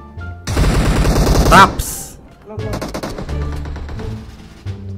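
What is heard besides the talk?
gunfire in video game PUBG Mobile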